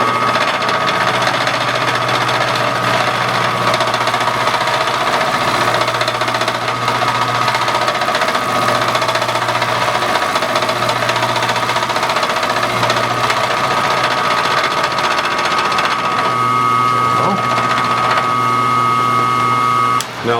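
Crankshaft grinder taking the final finishing cut on a crank journal, a steady loud machine drone with a constant low hum and dense mechanical whir throughout, a sharper tonal whine entering near the end; no talk.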